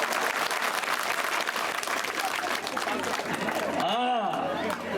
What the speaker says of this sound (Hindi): ताली बजा दो हरी घूंघट वाली के लिए।